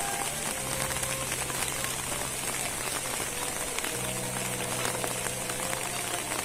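Sudden heavy rain pours down on a village in Nagrog, Tasikmalaya, a dense, even hiss of drops on surfaces, steady and enveloping, with a faint low hum running underneath.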